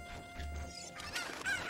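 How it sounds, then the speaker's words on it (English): Chicken clucking in Zelda: Ocarina of Time, a short burst of fowl calls with a crowing edge, fairly faint over a low hum. "that chicken just completely eluded me"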